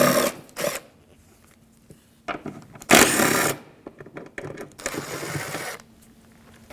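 Two 10mm bolts being backed out of a 2007-2013 Acura MDX taillight, heard as a few loud, brief whirring bursts from a power driver separated by quieter gaps, close by.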